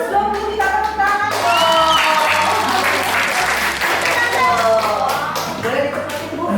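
A school audience bursts into loud, sustained applause, with many hands clapping densely while music with a steady low bass line plays along and voices rise through the noise.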